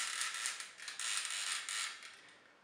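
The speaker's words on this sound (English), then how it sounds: "the so-called ratchets on his hip outward movement is actually more like a squeaky polystyrene box" Squeaky creaking from the ratcheted hip joint of a MakeToys Galaxy Meteor transforming robot toy, a plastic mechanism worked through its outward movement, giving a continuous close grinding squeak with several pulses and no talk.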